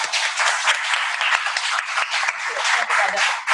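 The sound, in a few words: applause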